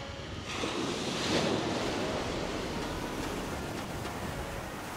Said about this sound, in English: we just got to the beach